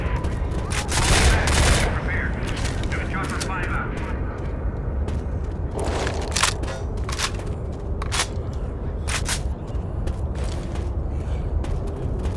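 Rapid bursts of gunfire from the zombie shooter game Left 4 Dead 2, dense volleys with brief breaks under a steady background of game noise.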